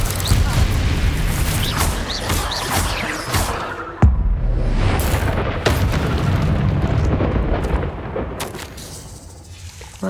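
Blasting spell explosions from the Hogwarts Legacy video game during a dragon fight, with heavy booms and whooshing bursts, a sharp blast near four seconds, dense continuous rumbling throughout, loud and close.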